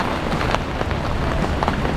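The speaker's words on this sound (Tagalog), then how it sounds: "lumalakas na naman ang ulan dito sa kabila." Heavy rain falls during a storm in Taiwan, a steady hiss of drops on surfaces with scattered louder splashes, moderately close and continuous.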